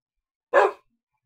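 A single short dog bark from the Minecraft video game sounds once, clear and isolated against silence.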